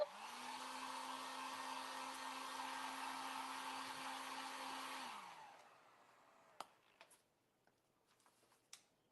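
A hair dryer blows with a steady whirring whine, then shuts off partway through as it fails, leaving a few faint clicks and taps in the quiet.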